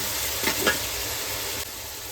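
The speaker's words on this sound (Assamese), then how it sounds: "এতিয়া পিঁয়াজখিনি দি দিছোঁ, পিঁয়াজখিনি দি ধুনীয়াকৈ ফ্ৰাই কৰিম" Onions sizzling in hot oil in a pot for mutton korma pulao, a steady close hiss with a couple of brief stirring scrapes partway through, no voices.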